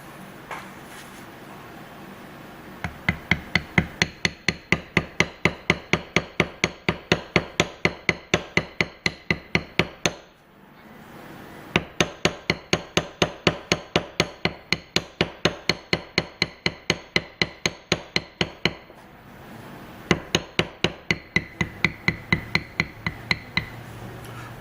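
A mallet strikes a beveling tool again and again as a flower and leaf pattern is tooled into leather, producing rapid, even, close-up taps in long runs with two brief pauses.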